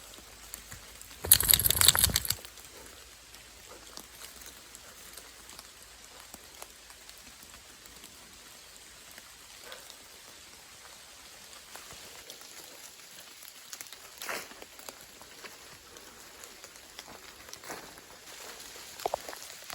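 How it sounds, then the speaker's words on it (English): Raindrops falling from leaves after rain, a soft sparse patter of scattered drips against quiet background, with one brief louder rustling burst early on. "there was so much water, so many raindrops on the leaves, and they fell down layer by layer, and you could hear that"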